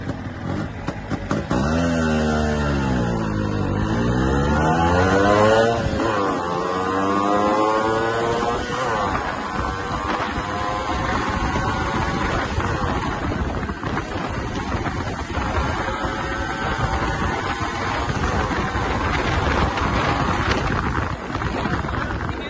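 A Yamaha RX Tiger motorcycle on the move, its two-stroke engine rising and falling through gear changes in a steady raspy drone, mixed with wind rush over the microphone and no talking.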